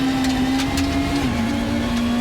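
Racing cars roar down a circuit straight side by side, a loud sustained engine drone with a steady pitch that dips slightly midway, continuous throughout.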